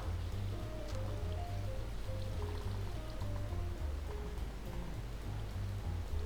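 Flowing water in a realistic Minecraft game runs as a continuous soft trickling stream, quiet and steady, with no talk.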